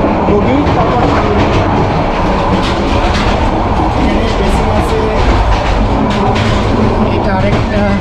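Interior of the Subarna Express passenger train in motion, with a loud, constant rumble and rattling clatter of the carriage and wheels filling the whole stretch, plus faint voices in the background.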